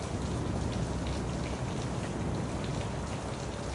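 Rain falls steadily in a thick, uniform wash of patter and hiss, close and constant, with no voices or other sounds breaking through.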